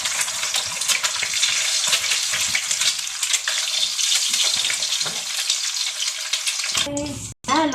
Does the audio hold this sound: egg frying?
yes